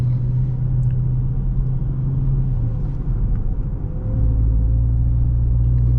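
Steady low engine rumble and road noise inside a 2021 Dodge Charger R/T while cornering, with the deep drone swelling slightly toward the end and no talk over it.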